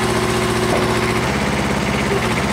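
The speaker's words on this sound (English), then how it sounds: "You can swing the outriggers in and out." A CTE 230-7 crane's engine runs with a steady rough drone and rapid mechanical pulsing as its outriggers swing in, loud, close and continuous with no talk.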